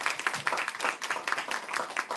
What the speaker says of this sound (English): Hey, let's give these men a round of applause for good things.